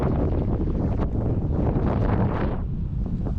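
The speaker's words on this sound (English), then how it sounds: "Proper ice cold wind coming down" Ice-cold wind blowing down onto an old Scottish harbour, a loud, continuous blustering roar buffeting the microphone close up, easing slightly toward the end, with no voices.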